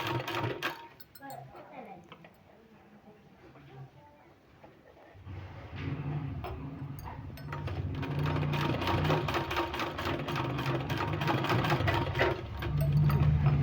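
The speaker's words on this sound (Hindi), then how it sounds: "इसी तरह से फोल्ड करके इसमें सिलाई पूरे में लगा लेना है इसी तरह से।" A sewing machine stitches along folded fabric for a sleeve design, its rapid mechanical clatter faint at first, then running steadily and loud from about five seconds.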